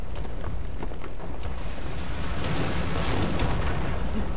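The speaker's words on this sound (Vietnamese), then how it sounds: "cầu sập nữa rồi" Heavy artillery blasts and rumbling destruction as a bridge collapses under shellfire in the World War II strategy game Company of Heroes, with dense, continuous booming and crashing at close range and no talk.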